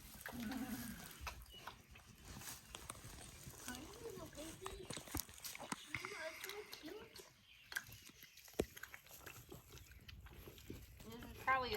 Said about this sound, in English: Pig noises intensify.